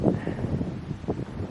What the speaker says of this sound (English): The wind has calmed down a little bit. Still a little bit windy.